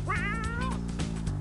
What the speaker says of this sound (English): Don't pull that kitty's tail.